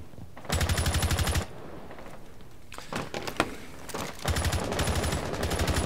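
Gunfire in a bomb-defuse shooter game, three rapid automatic bursts, loud and close, separated by short pauses with scattered single shots between them.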